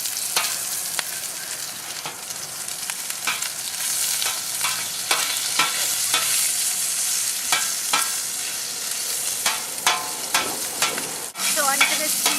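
Mild Italian sausage sears in a pan for paella, a constant close sizzle broken by repeated sharp scrapes and clacks of stirring, with no talking.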